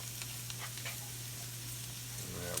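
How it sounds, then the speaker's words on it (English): Flour browning in pork chop drippings in a pan gives a faint, steady sizzle over a low constant hum, with no talk. "we want to brown this flour off"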